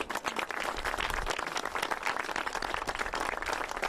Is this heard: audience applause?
yes